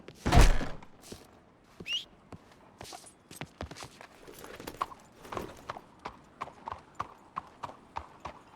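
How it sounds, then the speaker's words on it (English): Horse hooves clip-clop steadily in a video game roleplay set in Ozark County, a regular walking rhythm of sharp thuds that grows more even and prominent toward the end, with no voices over it. "I'll go grab the horse."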